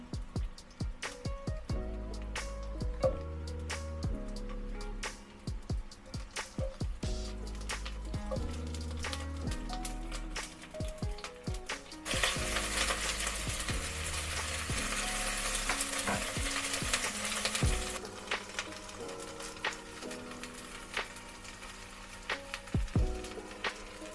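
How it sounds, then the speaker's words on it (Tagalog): Ginger and spring onion sautéing in hot oil, with a steady sizzle and intermittent scraping and stirring of a utensil against the pan, continuous throughout with no talking. "Gisain lang natin yung luya hanggang ma-infuse yung amoy sa oil"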